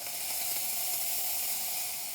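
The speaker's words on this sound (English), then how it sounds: "we're just gonna demonstrate real quick that we have steam" Steam hisses from the wand of a La Pavoni Professional lever espresso machine, a steady, airy, even jet with no talk over it.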